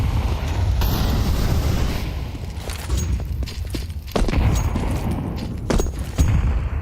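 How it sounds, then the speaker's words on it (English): Frag grenade explosions in Counter-Strike during a professional IEM Katowice 2025 match, a few muffled booms and thuds over rumbling in-game ambience and scattered sharp impacts. "Couple frag grenades on Zaz."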